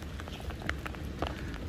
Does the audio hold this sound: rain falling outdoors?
yes